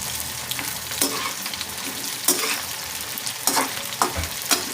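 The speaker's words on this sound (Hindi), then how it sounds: "इसे हम फ्राई करेंगे और उतनी देर से फ्राई करना है जब तक इसका कलर लाइट ब्राउन नहीं हो जाए।" Okra sizzling steadily in hot oil in a pan, frying until light brown, with a continuous crackle broken by a few sharper spatters and stirring scrapes, close and fairly loud, no talk.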